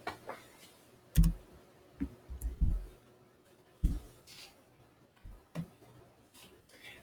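Someone typing an answer to a math inequality on a computer keyboard, making sparse, irregular clicks and taps, a few sharper knocks among faint ones, close and quiet with pauses in between.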